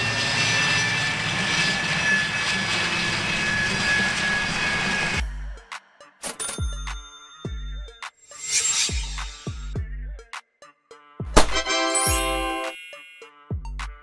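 A military attack plane's jet engine gives a loud, continuous roar for about five seconds, then cuts off and is followed by sparse, bright chimes and tinkling tones.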